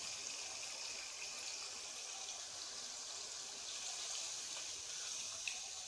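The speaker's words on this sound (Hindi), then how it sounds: "इमली का पल्प शामिल करके थोड़ा सा हम लोग पानी शामिल करेंगे।" Water poured into tamarind pulp masala while making chicken biryani, a steady hiss of liquid that runs unbroken for several seconds, with no voices.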